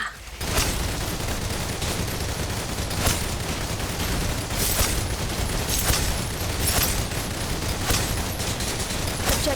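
Sustained rapid gunfire in a video game, dense bursts of shots fired continuously for several seconds, loud and close with sharper cracks standing out at intervals.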